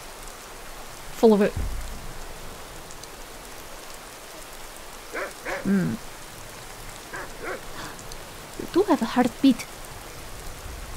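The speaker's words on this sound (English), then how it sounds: "How much rain does the ground drink a day, I wonder?" Steady rain falls in Skyrim, a soft continuous hiss of drops on the ground beneath several bursts of talking.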